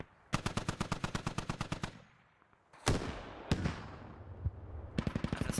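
Rifle fire in the military shooter game SquadOps: a rapid automatic burst of about a dozen sharp cracks, a short lull, two heavy single shots, then another quick burst, all loud and close with no talk.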